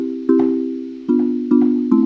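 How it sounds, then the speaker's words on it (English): Synthesized marimba-like mallet tones play a few bright plucked notes, each struck and then decaying, in a short sparse phrase. "Because it has so many different like marimba sounds like this."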